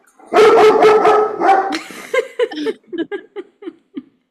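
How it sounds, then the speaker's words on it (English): A dog barks loudly and close by in a rapid burst of overlapping barks, then breaks off into a string of shorter, quieter yips and whimpers that fade toward the end. No speech is heard over it. "A dog that needs a muzzle."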